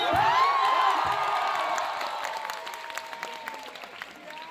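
College club introduction audience at IIT (ISM) cheering and clapping loudly, with whoops and shouts over steady applause that gradually fades and thins.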